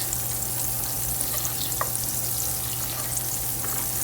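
All-purpose flour is added to melted butter for a roux and sizzles with a soft, steady hiss, close by and alone. A faint electrical hum runs underneath, with one brief tap midway.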